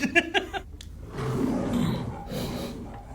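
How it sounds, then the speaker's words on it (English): A tiger roar used as the lion's voice in the film Rocky: a loud, rough, rolling roar swelling in the middle, preceded by a few short sharp sounds, with no talk. "Do you guys know that's a tiger making that noise?"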